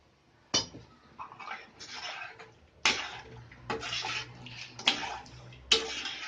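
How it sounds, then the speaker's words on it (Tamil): Water is poured in short splashing bursts into a pot of mutton bone sambar, five or six sharp near splashes with brief pauses between, set against a low steady stove hum. "தண்ணி ஆட் பண்ணிக்கிறேன்."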